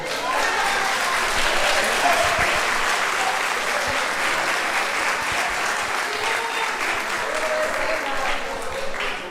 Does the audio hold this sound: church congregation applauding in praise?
yes